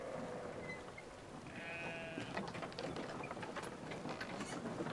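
A goat bleats in the Brothers video game, a short wavering call heard once amid a dense, noisy game soundscape of ambient rustling and background effects.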